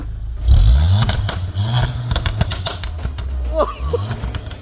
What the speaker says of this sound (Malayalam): 4, ഇവൻ്റെ ഒരു എക്സോസ്റ്റ് തന്നെയാണ്.